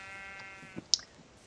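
A sheep bleats once in a video game, a short, fairly clear call against a steady tonal game backdrop with a faint click before it.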